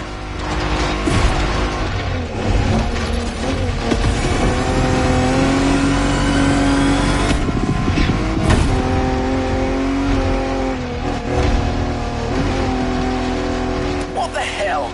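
A car engine revs hard while driving off-road in The Crew Motorfest, a loud continuous roar rising and falling with acceleration and mechanical rattles, with someone talking over it.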